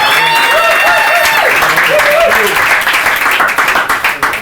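A keynote audience at a music and events talk breaks into steady applause for the speakers, with a voice talking over the start before the clapping swells and then tapers off.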